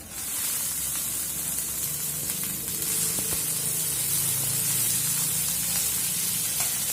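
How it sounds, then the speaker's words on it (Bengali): Chopped tomato going into a hot pan of fried onion, garlic and ginger for masoor dal tarka; a dense, even sizzling hiss holds throughout, close and steady, with light ticks of stirring. "আদাটা ভাজা হয়ে গেছে। এবার টমেটো কুচি দিচ্ছি।"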